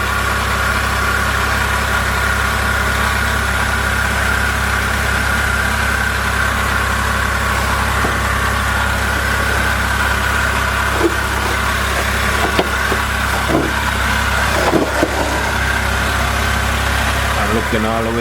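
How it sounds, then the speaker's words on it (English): A BMW X5 E70 engine idles steadily after an oil pan gasket job, a constant low rumble with an even drone throughout, heard close, with a few faint clicks and knocks near the end. "So now I have the engine running."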